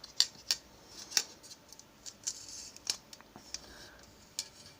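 Family Chef stainless steel tongs snapping open and shut, a series of about ten crisp metallic clicks and scrapes at an uneven rhythm, close and fairly quiet against a still background.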